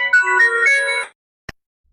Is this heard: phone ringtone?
yes